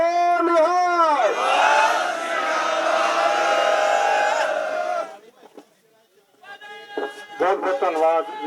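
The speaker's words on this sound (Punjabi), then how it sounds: "ਦੱਬ ਕੇ ਜਕਾਰਾ ਲਾਇਓ" Crowd at a Sikh protest rally bellowing a jakara battle cry, a loud sustained roar of many voices that cuts off abruptly, followed by a brief lull and then scattered shouting and voices picking up again.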